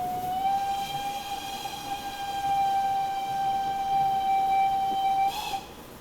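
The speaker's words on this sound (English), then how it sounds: "I guess we could blow the whistle" A BR78 4-6-4T tank steam locomotive in Train Simulator Classic gives one long, steady whistle blast of about five seconds, loud and close, over a constant background of wind noise.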